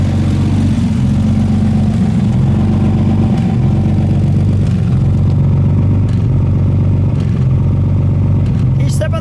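A 1951 Nash Healey Roadster convertible idles steadily, its low engine rumble heard close from behind the car, loud and continuous, while people talk nearby.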